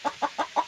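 A young rooster clucks four times in a steady, evenly spaced rhythm, close by and fairly loud, with no other sounds.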